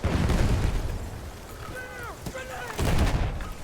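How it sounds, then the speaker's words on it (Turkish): A bomb blast in the video game Battlefield 1, with booming low rumbles of gunfire and explosions and whistling effects in the middle of the clip. "Bıraktım bir bomba."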